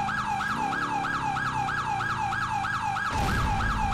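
Wailing police and ambulance sirens from backup units in a snowy police video game, a steady rapid warble continuous throughout, with engine rumble beneath and a burst of noise near the end, no talk.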